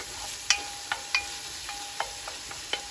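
Garlic sautéing in a pan gives a soft, constant sizzle, with light scraping taps from a stirring utensil against the pan at irregular intervals.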